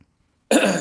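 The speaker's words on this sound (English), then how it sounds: "No, I was just coughing" A man on a Zoom call gives a single short, loud cough after a moment of near silence.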